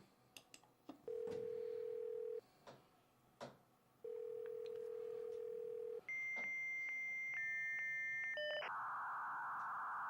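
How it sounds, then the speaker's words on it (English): A dial-up modem starts connecting in a comedy scene: two steady dial-tone stretches broken by clicks, then rapid dialing tones and a rising electronic handshake screech at the end, with no talking. "This modem is so slow."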